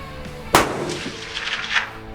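A long-range rifle shot at a 1,000-yard target during a hog hunting class in Texas: one sharp, loud crack followed by a fading rumbling echo, with no talking.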